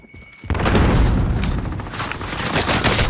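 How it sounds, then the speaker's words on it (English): A thrown grenade in a shooter video game detonates with a sudden loud boom, followed by a continuous roar of rumbling debris and rapid gunfire that stays dense and heavy until the end. "Throwing grenade."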